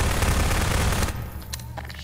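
Rapid video game gunfire hammers loud and close in a dense burst, then stops abruptly and leaves a quieter ambient tail with faint clicks.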